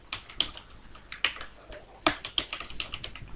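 Fingers typing text on a computer keyboard, a quick irregular run of light plastic key clicks up close, fairly quiet with no talking over it.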